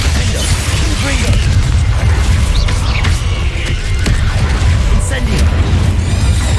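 The Confringo explosion spell cast in Hogwarts Legacy, with deep booming blasts and mechanical rumble that carry on loud and dense across the stretch, bursts and pops mixed in.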